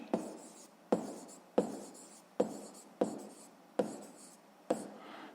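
A pen writes by hand on paper during a sixth-grade maths exercise, giving seven sharp, evenly spaced strokes about every three-quarters of a second, close and fairly quiet, with no talk.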